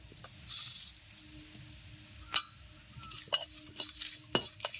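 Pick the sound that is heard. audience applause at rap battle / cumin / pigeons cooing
cumin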